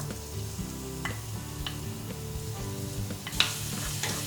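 Garlic sizzling in a little oil in a frying pan, a steady close crackle with a few light stirring knocks and one sharper clink near the end.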